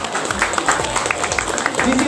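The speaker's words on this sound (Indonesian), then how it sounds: "Tepuk tangan buat teman-teman semuanya." An audience claps and cheers in a short burst at a charity gathering for orphans held by online motorbike taxi drivers, with a voice over the noise.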